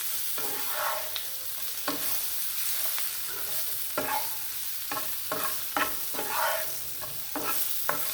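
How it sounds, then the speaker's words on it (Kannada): Paneer masala fry on the stove: dry masala powders are fried over low heat and stirred, with repeated sharp scrapes of a spoon against the pan over a soft, steady sizzle, close and clear. "ಅದಕ್ಕೆ ಸ್ವಲ್ಪ ಈಗೇ ಫ್ರೈ ಮಾಡಬೇಕು ಇದನ್ನೆಲ್ಲ"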